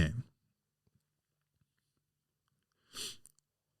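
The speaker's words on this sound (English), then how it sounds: "Sorry for sniffing" Two short sniffs close to the microphone, a few seconds apart, with near silence between them.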